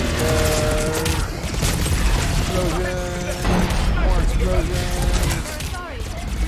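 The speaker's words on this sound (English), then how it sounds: "Explosions. More explosions." Explosions and gunfire in the video game Mass Effect 3 boom and crackle continuously in a dense, loud battle mix, with someone talking over the top throughout.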